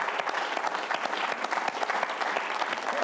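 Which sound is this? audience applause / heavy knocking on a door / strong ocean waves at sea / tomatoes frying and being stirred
audience applause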